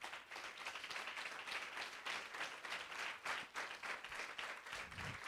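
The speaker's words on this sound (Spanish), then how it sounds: "Denle un aplauso al Señor" A church congregation applauding in praise after a sermon, a dense, sustained round of many hands clapping at moderate distance, rising and falling slightly without letting up.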